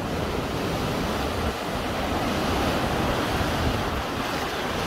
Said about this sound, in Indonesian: Ombaknya juga luar biasa ya.